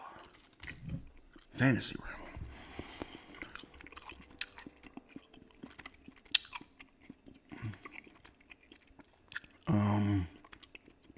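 Wet gum chewing sits close to the microphone and comes in short bursts around quieter stretches, with a single spoken word near the start.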